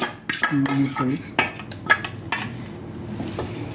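Utensils clatter and scrape against a pot or bowl as a bottle gourd and paneer mixture is beaten and then spread flat, with several sharp clinks over a few seconds and no talking.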